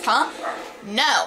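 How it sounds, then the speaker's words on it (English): A dog barks and yips several times in the background of a Luigi's Mansion playthrough, sharp repeated bursts over a short exclamation from a person. "excuse the barking in the background"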